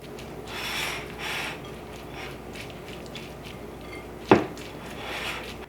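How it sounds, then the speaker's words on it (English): Carrot raisin salad dressed with mayonnaise is stirred in a bowl, giving soft, low scraping and wet mixing sounds with one sharp clink of the utensil against the bowl near the end. "And I usually mix this together first and then add in the raisins."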